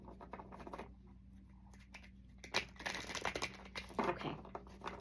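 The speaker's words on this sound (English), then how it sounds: "one more shuffle" Oracle cards are shuffled close up in a quiet room, giving soft, irregular papery scratches, riffles and slaps of card stock against card stock.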